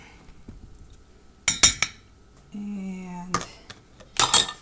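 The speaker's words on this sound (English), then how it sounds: "Stir that into the eggs" Utensil clinks against a bowl while a mixture is stirred into eggs, a few sharp knocks, a short steady hum, then a louder clatter; a voice says a brief word.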